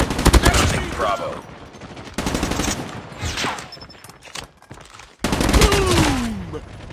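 Automatic gunfire in Call of Duty: Mobile, a Domination match on the Crossroads Strike map, rattles in dense rapid bursts with brief pauses between them, loud and close, with game voice callouts now and then.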